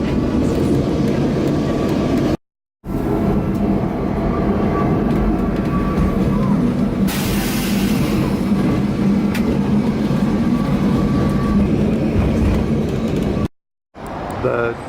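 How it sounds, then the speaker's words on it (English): Lisbon's Tram 28 rolls along a city street, a steady broadband rumble of wheels and motor with brief dropouts, recorded close by amid traffic and street noise. "The Tram 28 goes to this turnaround."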